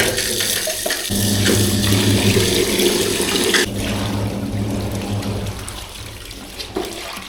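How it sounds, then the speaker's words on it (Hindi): Helmet padding washed by hand in fresh tap water, a loud continuous rush of running water into a basin with sloshing, the flow easing off after a few seconds. "इसको डालते हैं फ्रेश वाटर में"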